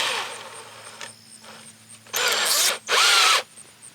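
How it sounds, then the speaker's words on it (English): A drill fitted with a Lennox diamond bit bores into tile in short bursts, stopping and restarting. The last two bursts run louder and harsher, and no one talks. "I am using a Lennox diamond bit."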